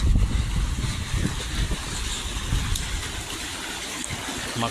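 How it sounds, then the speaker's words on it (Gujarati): Clean borewell water gushes out onto a farm field, a steady broadband rush heard up close and continuing without a break. "કેવું પાણી ચાલુ જો ગાઈસ."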